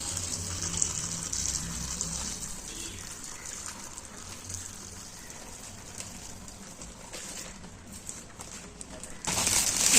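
Boiling water, about 1.5 litres, pours steadily into a PP plastic mushroom-growing bag indoors, giving a continuous close gushing splash that swells louder near the end.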